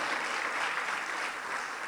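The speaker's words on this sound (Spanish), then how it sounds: "Más fuerte las palmas para el Señor, por favor, esta mañana." A church congregation claps hands together in a steady, dense wash of applause that holds evenly throughout.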